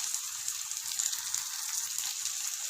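Eggplant slices frying in a pan over a medium flame, a continuous hissing sizzle that stays steady and fairly close, with a faint low hum underneath.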